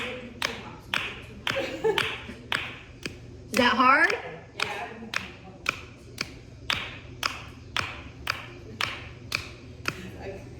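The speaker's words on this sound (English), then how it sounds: "I'm gonna clap to the beat that I am going." Steady, evenly spaced hand claps keep a regular beat during a gentle beginner rebounder workout, with a person speaking briefly partway through.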